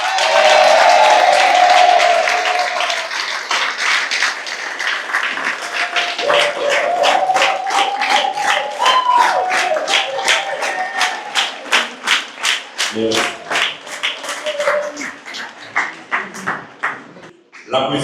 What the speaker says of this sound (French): je vous demande de valider le choix d'Alex Navajo sous l'applaudissement du gouvernement